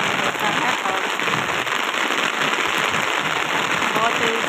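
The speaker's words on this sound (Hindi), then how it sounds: "देखिए बारिश का पानी होता है" Rain pours onto a rooftop in a steady, dense hiss that stays loud and even from start to finish, with no pauses or breaks.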